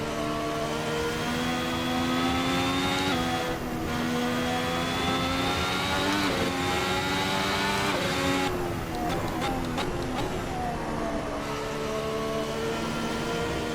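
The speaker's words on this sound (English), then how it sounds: "as we're bringing the car up to speed" Ferrari SF71H Formula 1 car accelerating in Assetto Corsa, a steady high-pitched engine whine climbing through the revs with gear changes, loud and continuous throughout.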